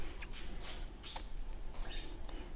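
Scissors snip through the end of a zipper while sewing a clutch bag, giving a few quick, quiet cuts and clicks close by over a soft room hiss.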